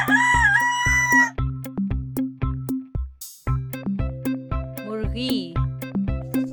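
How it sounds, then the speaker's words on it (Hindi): A rooster crows once near the start over a loud, steady backing of repetitive plucked music and percussion, the crow clear but brief before the music carries on alone. "मुर्ग"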